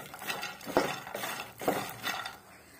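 Makhana (fox nuts) dry roasting in a pan are stirred with a utensil, giving a few distinct scraping strokes against the metal with rattling in between and no voices.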